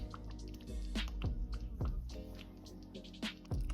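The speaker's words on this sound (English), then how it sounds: "we're going to take the rest of the coconut milk and just add that to the sauce" Coconut milk is poured into butter chicken sauce in a pan, with close, soft liquid drips and wet plopping sounds landing at irregular intervals at a low, quiet level.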